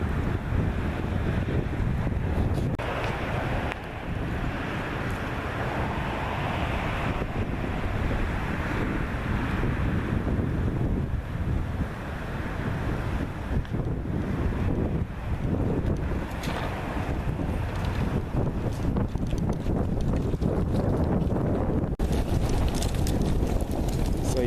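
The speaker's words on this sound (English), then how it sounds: "Yeah, the wind blows and it kind of goes in a big circle." Outdoor wind blows in a continuous, loud, rushing roar against the microphone for the whole stretch, rising and easing in gusts, with no one talking.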